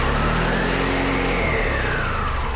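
A motorbike engine being coaxed to start, revved steadily and loudly as the throttle opens, a sustained close drone with the pitch rising and falling, no talk.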